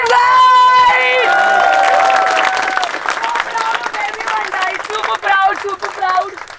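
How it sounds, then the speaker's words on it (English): Run club members clapping for themselves after a community run and cool down, loud voices and cheering near the start, then a mix of claps and chatter from the group in an outdoor setting. "clap for yourself, guys!"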